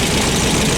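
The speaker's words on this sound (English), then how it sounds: "Man, this exhaust is leaking." An engine with a leaking exhaust at the filter flange, missing gaskets and seals, running in a loud, close, steady rumble with a rough, puffing texture throughout the short burst.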